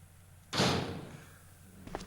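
A door opens with a swift heavy whoosh and rumble in Resident Evil 2, fairly loud and alone over quiet background hum, followed by a short faint click.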